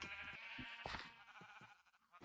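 Minecraft sheep bleat several times while being sheared with shears, short wavering cries in a quick rhythm, close and clear with game ambience behind.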